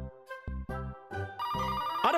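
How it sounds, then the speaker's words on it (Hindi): A telephone in a comedy detective cartoon rings with a repeated electronic tone in short bursts, close and clear with no talking. "अरे पांडव, फोन तो उठाओ जरा"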